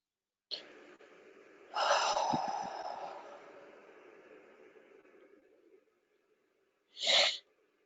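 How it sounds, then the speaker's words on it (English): A person taking a deep breath, a long audible inhale followed by a fading exhale, then a short sharp breathy burst near the end, alone in a quiet room. "A deep breath."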